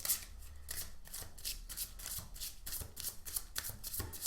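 Telepathy oracle cards being shuffled by hand, a quick run of crisp riffling bursts in steady rhythm, close and fairly quiet with no talking.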